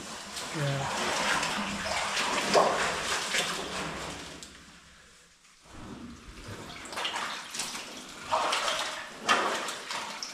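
Underground Chocolate River flowing through a cave passage, a steady rushing and splashing of water that fades briefly and swells again, with someone talking over it.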